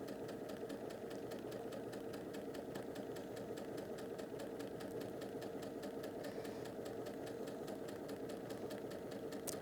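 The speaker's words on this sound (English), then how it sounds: "So we're just going to do a nice 1/4 inch seam." A sewing machine runs steadily while stitching a quarter-inch seam through slippery necktie fabric, a fast, even mechanical whirr with a regular rapid ticking pulse, close and continuous without pause.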